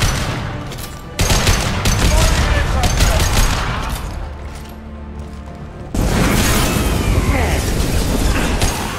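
Dense gunfire and explosions in Mass Effect 2 crackle in sustained volleys, with sharp jumps in intensity as heavier bursts hit, loud and continuous throughout.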